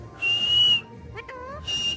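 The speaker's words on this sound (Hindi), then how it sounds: "सीटी मार दो" A pet parrot whistles two sustained, clear whistle notes separated by a short pause, with a brief chirpy vocal flourish between them; close and fairly loud in a quiet room.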